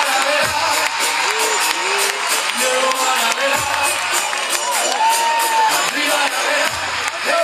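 Crowd at the Corrientes carnival ambassador election cheers, whoops and applauds continuously, with children shouting and a dense, loud, close wall of voices filling the whole stretch.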